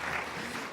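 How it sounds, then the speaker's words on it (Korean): Congregation applauding during a Sunday church service to encourage a member; a brief, dense wash of clapping, fairly loud and continuous, with no speech. "우리 박수로 격려할게요"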